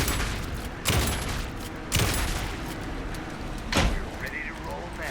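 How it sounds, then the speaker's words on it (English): Gunfire in the video game Alan Wake 2, heard as three sharp, loud shots spaced about a second apart over a dense, noisy game soundscape. "Anderson, pin him down with gunfire for me to get the light on him"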